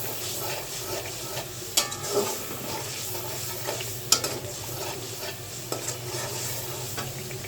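Spice paste of turmeric and chili for thin Katla fish curry fries with a steady sizzle in a pan while a spatula stirs it, occasional sharp scrapes over the continuous hiss.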